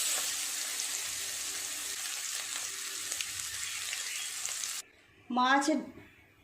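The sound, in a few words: fish roe frying in oil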